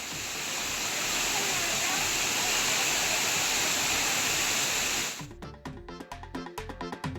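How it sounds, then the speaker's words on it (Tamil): A waterfall roars as a loud, steady rush where tourists bathe, then cuts off abruptly into quieter, choppier sound for the last couple of seconds. "அருவிக்கு வந்துள்ள சுற்றுலா பயணிகள் குதூகலமாக குளித்து மகிழ்ந்து செல்கின்றனர்."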